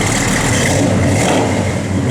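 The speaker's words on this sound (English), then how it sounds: "Good sounding big block." A 1969 Chevrolet Chevelle SS big block V8 revs loudly and close, with a steady, dense roar and a slight mechanical clatter through the whole short stretch.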